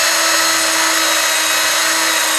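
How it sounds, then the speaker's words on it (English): A power drill grinds through very hard tile with a wet bit, a loud, steady high-pitched whine held without pause. "while you're drilling through this very hard tile"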